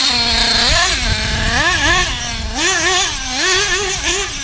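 A Tekno NB48 2.0 nitro RC buggy's small glow engine revs up and down repeatedly, a loud, close, high-pitched buzzing whine that rises and falls in waves throughout.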